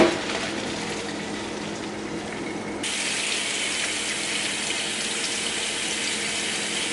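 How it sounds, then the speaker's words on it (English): Continuous gushing water pouring and splashing close by as pasta is strained, growing louder and brighter partway through, with no talking. "I'm gonna strain these to get all the water out"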